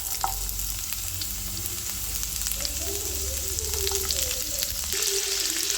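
Chopped onion sautéing in coconut oil for a bitter gourd stir-fry, a steady close sizzle with soft crackles and occasional stirring scrapes, no talk.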